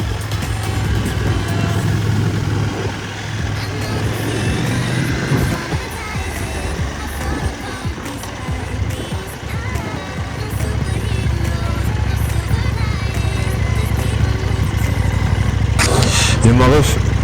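A KTM 790 Duke motorcycle engine rumbling steadily, with revving swells that rise toward the end, while people talk over it.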